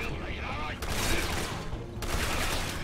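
Gunfire in the video game Resident Evil 6 comes as dense bursts of rapid shots in two sustained volleys, loud and close, with a player's voice talking over the shooting.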